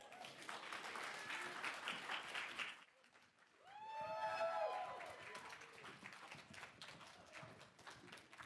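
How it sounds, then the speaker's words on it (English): A conference audience at NFT.London 2022 applauds to welcome a panel, a soft scattered round of clapping heard from a distance, broken by a brief gap and a squeal of microphone feedback before the claps resume. "please give a warm round of applause for Tim, Nathan, Leah, and KJ"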